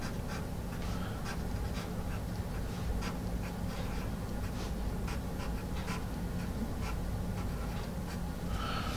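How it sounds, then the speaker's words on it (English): A Mexican-made Dixon Ticonderoga No. 1 pencil scratches across paper in quick, repeated strokes, a soft graphite scraping against a steady background hiss, with no one talking. "I do like writing with this number one Ticonderoga from Mexico"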